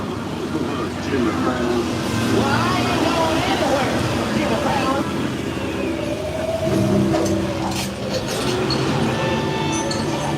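A studio tour tram on the Universal Studios backlot rumbles steadily along with a low mechanical drone and rattling, while a person talks over it throughout.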